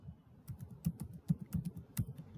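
Fingers tap steadily on a computer keyboard, with a quick irregular run of close, crisp clicks and a few louder keystrokes standing out in a quiet room.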